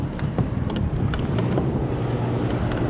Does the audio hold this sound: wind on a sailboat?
yes